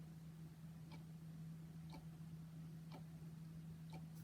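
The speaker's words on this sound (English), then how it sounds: "it's quiet enough in here you might actually be able to hear it ticking" An old clock ticks faintly, four evenly spaced ticks about a second apart over a low steady hum in a quiet room.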